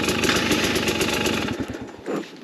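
A 2024 KTM 250XCW two-stroke dirt bike engine idles close by, a loud rapid putter with a fast regular pulse that fades slightly before a brief revving bump near the end.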